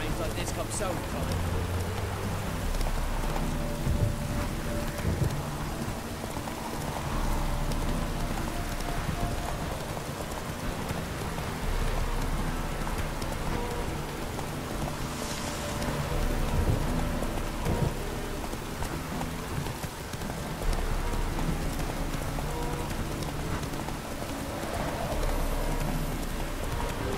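Rainfall in the video game The Witcher 3, a continuous even hiss of rain with low rumbles and faint hoof clops beneath, steady at a moderate level throughout.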